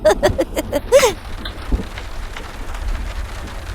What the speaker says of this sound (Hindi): बारिश होने वाली है, कंबल लेकर सोना।